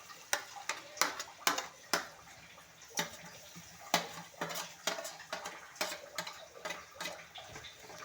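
Mango pickle with a tempering being stirred in a pan, a spoon clinking and scraping against the metal in repeated sharp strokes over a faint sizzle, close and without talk.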